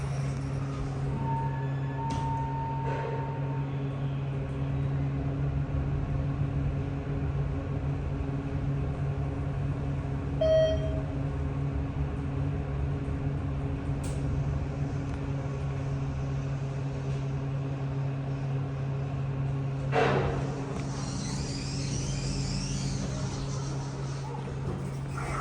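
ThyssenKrupp Synergy elevator running up to floor 2 at the San Diego Zoo's Bashor Bridge: a steady low motor hum and drone with faint ticks and a brief clunk partway through, continuous and close.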